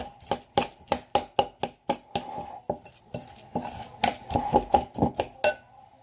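A spoon stirring a small-seed hamster treat mix in a bowl makes a rapid, rhythmic series of clinks and scrapes against the bowl, close and loud, with no voices.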